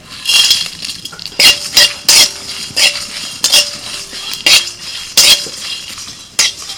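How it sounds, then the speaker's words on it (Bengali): Whole cumin, coriander, dried chillies, cardamom, cinnamon, cloves, nutmeg and mace stirred in a dry wok: repeated sharp metallic scrapes and clinks of a spatula against the pan in an uneven rhythm, close and loud, no talk. "এগুলোকে শুকনো কড়াইতে ভেজে নেব"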